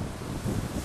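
Strong north wind gusting over open ground in the Kolyma region during a hunting trip, buffeting the microphone with a steady low, rumbling roar and no voices.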